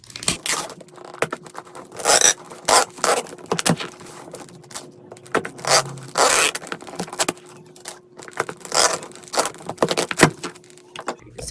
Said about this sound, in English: So we're gonna tape this guy up.